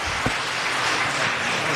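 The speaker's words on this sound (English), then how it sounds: "there's an applause tie between you and Mr. Krikorian" Audience applause at a city council meeting, a steady wash of clapping heard at moderate loudness throughout without speech.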